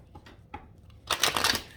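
Tarot cards being shuffled during a reading: a few faint soft ticks, then a loud, close burst of rapid riffling flutter lasting under a second, with no talk.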